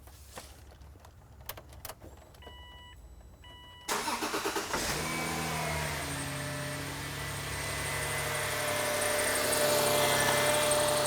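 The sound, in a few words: Subaru car engine starting and idling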